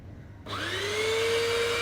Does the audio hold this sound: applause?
no